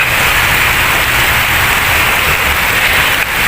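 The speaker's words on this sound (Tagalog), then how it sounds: "Ayan guys, umulan na naman." Steady heavy rain pours down on a rural vegetable plot during a downpour, a dense continuous hiss close by with no breaks and no voices.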